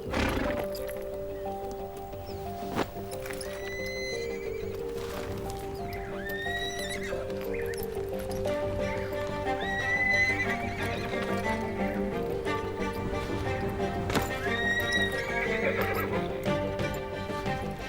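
Horses neigh and whinny repeatedly while hooves clop and shuffle nearby in Patagonia, as a young colt is introduced to a bit and saddle, loud and continuous over a dense outdoor background.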